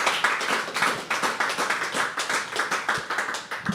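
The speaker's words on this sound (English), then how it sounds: "Can you clap for yourselves?" Audience at a poetry open mic at The Habitat applauds itself, with close, uneven clapping in repeated bursts filling the room and no talk on top.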